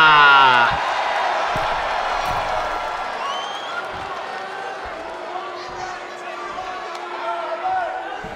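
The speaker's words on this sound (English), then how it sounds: "We got a lively crowd here in Sauble Beach tonight." A lively crowd at an XPWL wrestling show at Sauble Beach cheers and claps under a ring announcer's voice, a sustained mid-level roar with scattered shouts that holds steady throughout.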